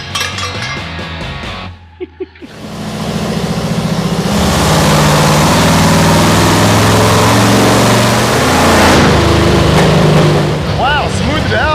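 A rear-engine mini truck runs with its mufflers pulled out, a loud, raw, uneven exhaust drone that rises and holds after a short stutter and brief gap near the start, with some voice mixed in.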